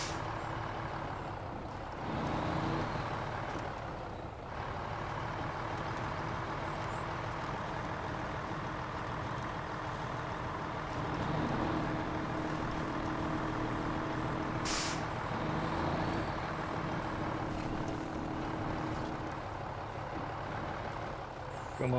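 A heavy truck engine drones steadily in the off-road driving game SnowRunner, a continuous loud low rumble with revving swells and occasional mechanical knocks over about twenty seconds.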